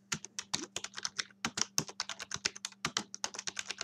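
Rapid typing on a computer keyboard, a dense run of close, crisp key clicks in an uneven rhythm, with a faint steady hum underneath and no voices.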